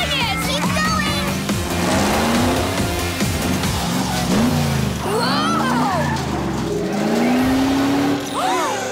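Cartoon car revving and skidding as it strains up a steep slope of soft ground, engine whine rising and falling with tire squeals throughout, over a busy music bed.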